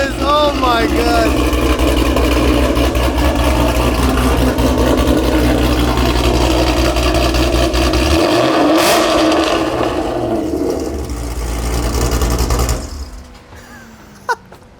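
A cammed Ford Shelby GT500 with Corsa Extreme exhaust revving loudly and close, a sustained roar that rises and falls before cutting off near the end, with excited talk over it.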